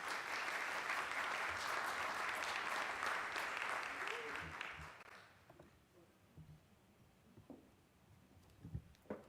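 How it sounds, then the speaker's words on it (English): An audience applauds a keynote speaker at an online learning conference, a dense round of clapping that fades after about five seconds into scattered claps and room noise. "Round of applause"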